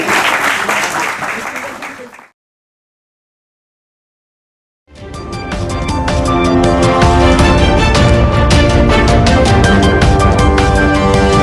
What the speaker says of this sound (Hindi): एक बार जोरदार तालियों से सभी स्वागत करें।